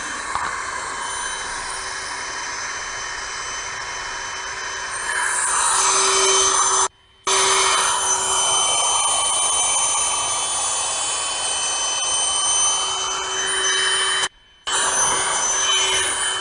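A small electric pump inflates a Trekology Aluft UL 80 sleeping pad with a steady, loud whine whose pitch shifts and strains as the pad fills, broken by two abrupt brief cutoffs.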